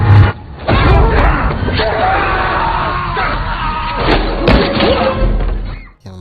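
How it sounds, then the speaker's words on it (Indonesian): A mafia action film fight scene plays with loud, close thuds and impacts mixed with shouting and yelling voices over a rumbling soundtrack, ending in a sudden drop. "lalu terjadilah baku hantam dan baku tembak antara mereka"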